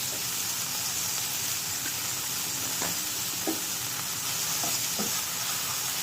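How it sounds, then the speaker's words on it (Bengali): Ginger-garlic paste hits tomatoes frying in a pan for a potato-cauliflower curry, giving a steady, close sizzle with a few faint stirring scrapes and no talk over it. "এবার আদা রসুন পেস্টটা দেওয়া হচ্ছে"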